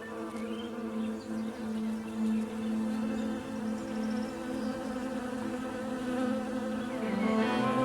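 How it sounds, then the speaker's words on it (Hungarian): Honeybee colonies foraging around an apiary, a dense continuous buzzing drone of many bees with overlapping wingbeat tones, steady and fairly close, no voices. "A méh családok a virágzó méhlegelőkről próbálják begyűjteni a mindennapi betevőt."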